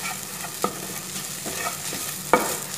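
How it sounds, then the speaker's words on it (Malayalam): Egg for a green peas egg thoran sizzles in a pan while a spatula pokes and stirs it, a steady close hiss punctuated by a couple of sharp scraping knocks, no speech. "നന്നായിട്ട് കുത്തി കുത്തി പൊരിച്ചെടുക്കാം"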